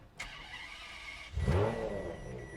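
A Ferrari 599 GTO V12 fires up after a brief starter whir, then revs loudly and settles into a deep, rumbling idle close by.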